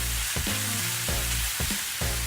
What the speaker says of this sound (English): Put a bit of the green beans here.